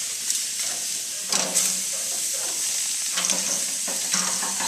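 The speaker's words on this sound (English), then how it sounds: "Give this another stir." Instant ramen soup with the dissolved soup base being stirred in a pot beside a surf and turf grill: a steady hiss of cooking with scraping, sloshing stir strokes recurring in bursts.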